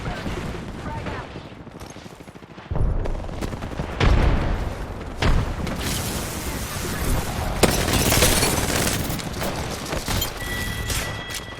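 A frag grenade blast and gunfire in a first-person shooter video game, with sharp bursts and heavy booms around the middle of the clip, loud and busy throughout.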